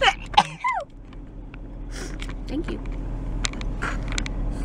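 A single person sneezes sharply right at the start, a close, loud burst; a short spoken remark and quiet room noise follow.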